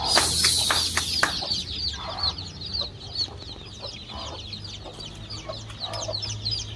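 A desi farmyard hen with her four-day-old chicks, soft repeated clucking and high chick peeps continuing throughout, close by over a low background hum.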